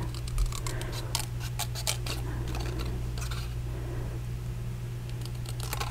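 Scissors snip through cardstock while trimming pieces for a masculine birthday card, a series of short crisp cuts in uneven bursts, close up over a steady low electrical hum, with no voices.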